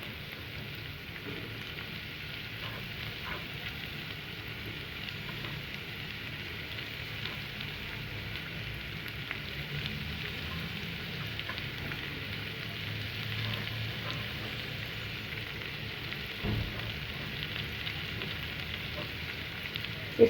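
Vegetables frying with onions in a pan, a soft, steady sizzle that runs evenly throughout at low volume, with no voices.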